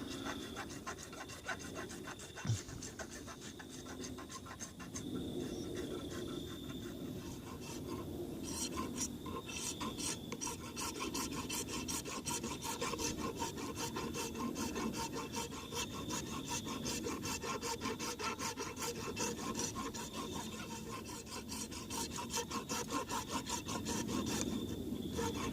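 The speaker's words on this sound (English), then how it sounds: "That's a rasp I'm using." Steady rasp filing across a soft copper knife handle on a Camillus M3 trench knife, a continuous scratchy grinding rhythm of back-and-forth strokes, close and even for the full length with no talk.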